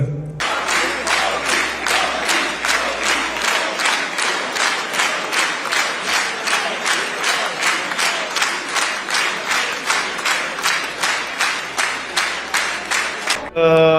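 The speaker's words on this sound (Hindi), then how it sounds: "तालियां बजा भी रहे थे इजरायली पार्लियामेंट के मेंबरान, और मोदी के नारे भी लगा रहे थे।" Members of the Israeli parliament give a long, loud round of applause, their claps settling into a strong, regular rhythmic beat that fills the chamber for the whole stretch.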